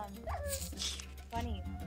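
Minecraft dog yipping and whimpering in short bursts, a pitched whine rising and falling between low game background noise, with a person talking over it.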